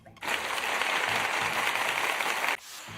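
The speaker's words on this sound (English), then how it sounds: "Thanks for the applause." Short burst of applause, a dense wash of clapping lasting about two seconds that starts abruptly and cuts off sharply.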